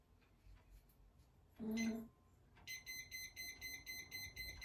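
A coffee machine's single short electronic tone sounds, then a steady series of slow, evenly spaced high beeps signalling a full mug repeats until the end.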